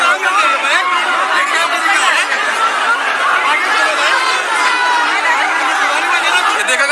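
Large crowd of young protesters at the Uttarakhand unemployed union mega rally, a constant loud babble of many voices near and far, with a reporter speaking over the din.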